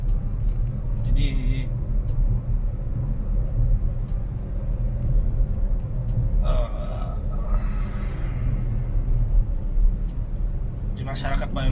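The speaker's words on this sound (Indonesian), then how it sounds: "masih banyak aktivitas kendaraan yang lalu lalang" Road traffic in Palembang, a steady low rumble of vehicles passing with occasional louder engines and horn-like tones, continuous and moderately loud under scattered voices.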